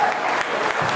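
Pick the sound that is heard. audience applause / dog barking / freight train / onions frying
audience applause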